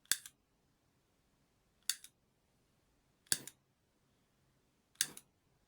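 A lighter being clicked and struck in a quiet, dark room, four short crisp bursts spaced about one to one and a half seconds apart, each a brief flinty snap with a quick rasp, close and isolated against near silence.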